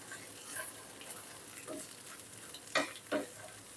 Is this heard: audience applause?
no